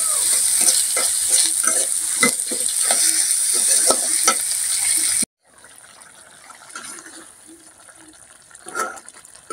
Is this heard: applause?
no